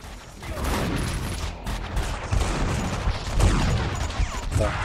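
Dense, continuous gunfire from Max Payne 2, with overlapping shotgun blasts and rapid shots forming a loud, chaotic fusillade that runs through the whole stretch with no pauses.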